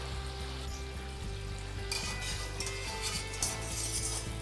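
Honey candy dough deep frying in moderately hot oil, a steady dense sizzle with faint clinks of utensils and a brighter crackle surging partway through.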